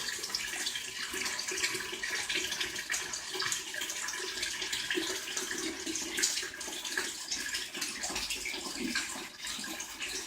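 Water pours steadily out of a tank through an enlarged drain hole, a continuous splashing rush that stays close and even throughout, with no talk.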